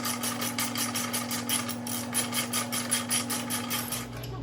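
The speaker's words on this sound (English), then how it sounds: "Now I'm going to take my 19 millimeter and I'm just going to unscrew the entire axle." Rhythmic, evenly spaced ratcheting ticks from a 19 mm wrench unscrewing the front axle of a 2014 Yamaha Bolt 950cc motorcycle, close and steady over a constant low hum.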